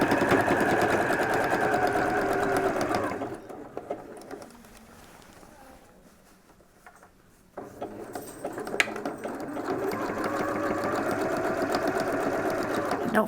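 A sewing machine zigzag stitches along a seam line of a DIY medical isolation gown, a steady loud mechanical whirr that stops for a few seconds of near quiet midway and then resumes at full speed.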